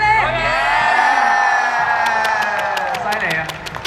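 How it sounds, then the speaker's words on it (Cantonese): Crowd of fans at a Mirror boy-band anniversary dodgeball match erupts in loud cheering and whooping for Stanley, one sustained roar of voices, followed near the end by a run of sharp rhythmic claps as the cheer fades. "OK，俾掌聲 Stanley。"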